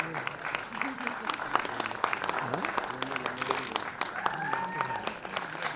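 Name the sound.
loud applause from audience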